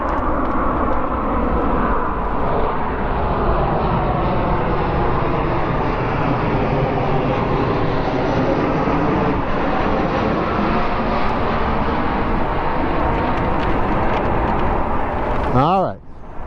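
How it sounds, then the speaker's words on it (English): A jet airplane passes overhead during an outdoor hike, a loud, sustained broadband roar that holds steady for about fifteen seconds before cutting off, with a brief sweeping tone at the end. "stand by, jet airplane."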